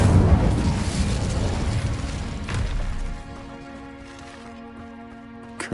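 An Incendio fire spell is cast in a wizarding video game, opening with a loud burst of roaring flame and crackle that cuts off and falls to a quieter tonal hum with a final pop at the end.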